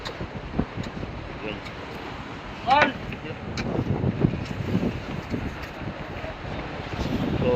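Wind buffets a fishing boat at sea at night, a steady low rumble and hiss running throughout, with someone speaking briefly over it.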